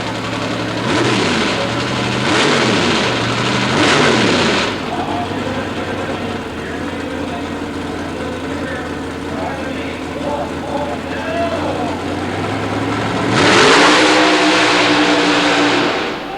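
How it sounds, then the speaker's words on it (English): A nitrous oxide injected, Chevy-powered Jeep with a fiberglass front end makes a super modified mud racing run in Baltimore, 1990. Its engine roars in several rising rev bursts, drops to a rumble, then surges again loudly, under an announcer's commentary. "The nitrous oxide injected Chevy-powered Jeep, they may want to secure that front end fiberglass a little better next time."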